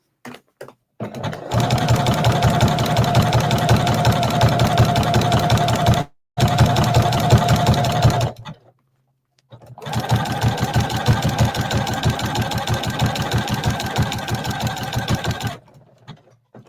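A sewing machine stitches appliqué onto a beach towel in steady, close runs of rapid needle strokes, pausing briefly twice and stopping near the end, with no talking.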